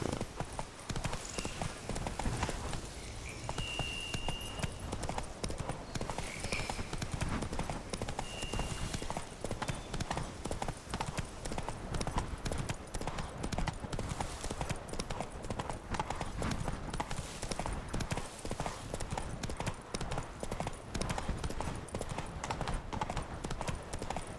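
Roach the horse galloping in The Witcher 3, a steady, loud drumming of hooves that runs without pause and includes a brief whinny.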